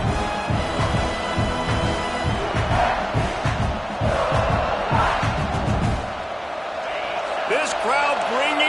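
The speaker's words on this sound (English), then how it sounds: "This crowd bringing the energy and noise early." A large stadium crowd roars with rhythmic pounding and chanting, while a commentator talks over the noise.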